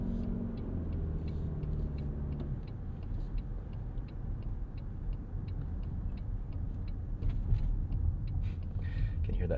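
A 2025 Toyota Highlander Hybrid cruising on the road, heard from inside as a steady low rumble of tyres and drivetrain with faint ticking, continuous and moderately loud.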